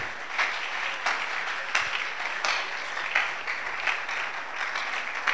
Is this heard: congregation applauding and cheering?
yes